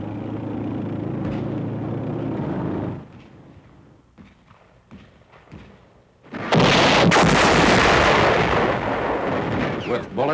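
Bursts of WWII gunfire and flamethrower blasts as armored Amtraks push through jungle hunting snipers, starting with a loud rumbling stretch, then scattered sharp cracks, then a long, very loud roaring blast dominating the end.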